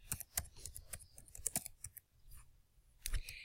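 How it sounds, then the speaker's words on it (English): Computer mouse clicks while someone fills out an employment application form on screen, several short sharp clicks in an irregular rhythm, close and fairly faint, with a denser cluster near the end. "Again, clicking in the gray box."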